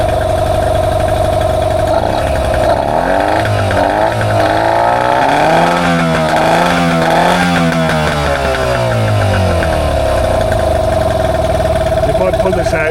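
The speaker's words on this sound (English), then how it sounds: "So we'll start the engine." A Yamaha 15 hp two-stroke outboard motor with a faulty safety kill switch runs loud and close, a buzzing idle that rises and falls in pitch as the throttle changes.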